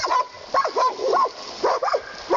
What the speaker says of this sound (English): The coyote's trying to fight back, 3 dogs, I guess, are trying to kill it.